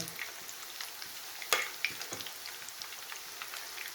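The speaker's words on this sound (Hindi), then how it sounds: "तो इसको अच्छी तरह लो फ्लेम पे हमने फ्राई करना है।" Arbi leaf pakoras fry in oil over a low flame, giving a steady soft sizzle with a few sharp pops and crackles close by, and no talking.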